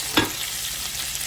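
Bacon frying in a pan gives a short, even, close sizzle with a single knock just after the start, and no voices.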